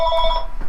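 An incoming-call phone ringtone plays as a steady electronic melody of bright tones, close and clear, lasting under a second with no talk over it.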